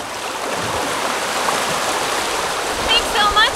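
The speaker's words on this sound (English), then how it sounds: "the very, very soothing sound of downwind sailing" Water rushing steadily along the hull of a sailboat sailing downwind near sunset, a constant close wash with a voice speaking over it toward the end.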